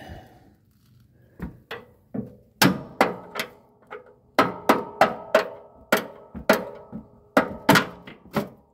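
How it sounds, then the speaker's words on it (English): A hammer drives a pin out of a Cub Cadet ZT1 50-inch zero-turn mower deck with about fourteen sharp metallic blows. They come in uneven bursts with short pauses, loud and close. "So I think I'll just take the hammer, and that gets me that far."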